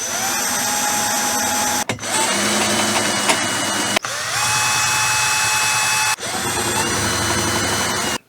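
A power drill drives and tightens screws in several long, steady whirring runs, each broken by a brief stop, loud and close with no talking.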